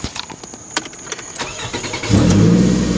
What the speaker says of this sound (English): And if you turn on the car